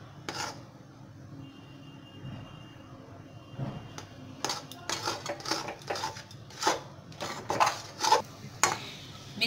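A spatula scrapes and knocks around a kadai while a thickening ghee-laced mixture is stirred, sparse at first and then a quick run of loud rhythmic metallic scrapes and clatters, no speech.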